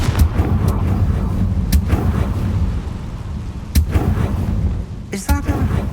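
In the video game Hogwarts Legacy, a Confringo blasting spell is cast, producing a sharp crack and then a burst of crackling impact over a rumbling game soundscape, alongside other short sharp hits.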